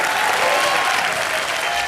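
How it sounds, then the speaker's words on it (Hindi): Loud, steady applause from a studio audience on a Hindi TV comedy show, cheering for Bharti and Karan, with dense clapping that holds for the whole stretch. "जोरदार तालियां हो जाए भारती और करण के लिए।"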